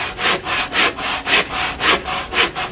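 Wood is planed and sanded by hand in steady back-and-forth strokes, about five rasping passes in a regular rhythm, close and loud.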